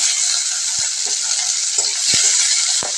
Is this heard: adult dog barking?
no